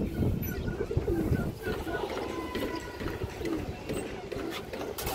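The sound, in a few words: female pigeon cooing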